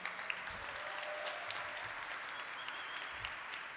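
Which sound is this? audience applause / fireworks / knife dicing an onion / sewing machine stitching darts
audience applause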